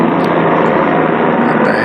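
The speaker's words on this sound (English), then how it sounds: "The helicopter overhead." A helicopter flying overhead, a loud steady broadband rotor and engine roar that holds at constant level for the whole two seconds with no break.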